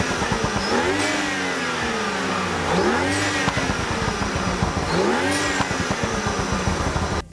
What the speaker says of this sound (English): I'm going to show you right now how my intake sounds from a past video